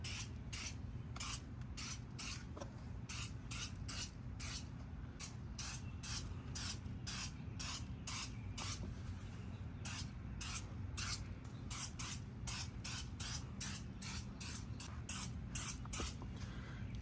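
Black Magic aerosol tire shine is sprayed in a long run of short hissing bursts from the can onto a tire over a towel, steady and close, with a low hum beneath.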